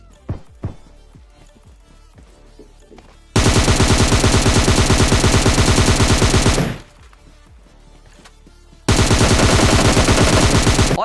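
Gunfire in a battle royale video game: two long, loud, sustained bursts of rapid automatic fire separated by a quieter stretch of scattered single shots and footstep-like thuds.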